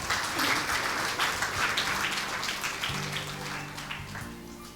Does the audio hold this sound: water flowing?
no